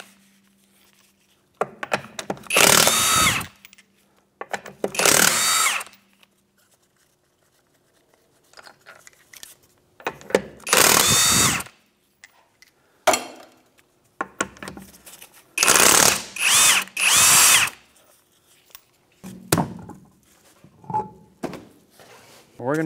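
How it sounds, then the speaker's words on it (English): A power tool fitted with a 21 mm socket spins the rear wheel lug nuts off a 2013 Hyundai Elantra in short, loud, harsh bursts, about six of them, separated by quiet pauses. "With a 21 millimeter socket, we're going to remove the rear tire."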